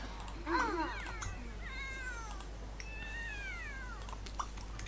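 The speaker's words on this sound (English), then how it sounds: "You stupid cat." A cat in The Sims 3 meows several times in a row, with drawn-out, wavering cries over a low steady hum and no talking.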